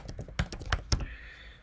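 Computer keyboard typing as a layer name is entered in drafting software, a quick burst of a few close, crisp keystrokes with uneven spacing, then quiet room tone.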